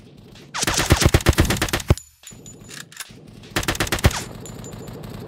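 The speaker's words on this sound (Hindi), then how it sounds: "अभी वो एलएमजी मारते हुए आ रहे हैं।" An LMG fires in the shooter game Kirka.io in two loud, rapid bursts, the first about a second and a half long. After a brief pause, a second, shorter burst follows.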